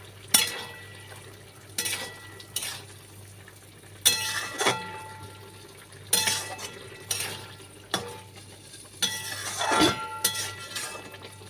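Mustard-poppy paste being stirred into an okra and potato curry in a pot, giving repeated clinks and scrapes of a spoon against the vessel in uneven bursts over a steady low hum, with no talking.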